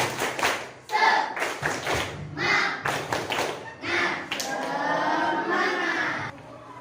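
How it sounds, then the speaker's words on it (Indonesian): A group of people performs a rhythmic spirit clap in a school or workplace session, patterned bursts of clapping and thumps mixed with loud chanted voices, ending in a sustained shout. "Tepuk semangat."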